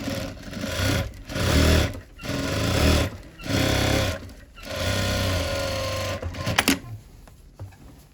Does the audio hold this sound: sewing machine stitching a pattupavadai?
yes